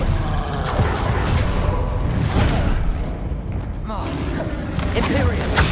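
Booming spell blasts and magical impacts from the Expelliarmus spell in Hogwarts Legacy, loud and dense, with repeated heavy thuds over several seconds and a voice talking over them.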